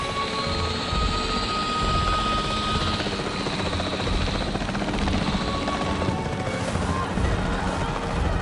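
A capture team helicopter in the Jurassic World Evolution 3 video game thunders with a steady, loud rotor roar throughout, mixed with a dense wash of game effects and brief crashing impacts.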